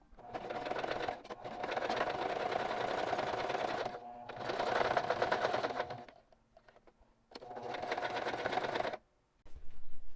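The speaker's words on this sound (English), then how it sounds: "And we're going to sew right here." A sewing machine stitches a sleeve onto a shirred, smocked top in three steady runs of continuous motor whir, separated by brief pauses, close and fairly loud.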